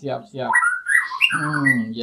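Java sparrows chirping and tweeting nearby, a quick series of bright calls and warbling notes with short gaps between them.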